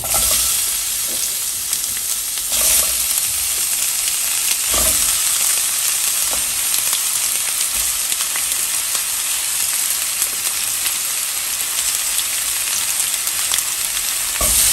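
Onion frying in oil in a pan gives a steady, loud broadband sizzle throughout, with occasional soft clicks of utensil or pan movement and no voices.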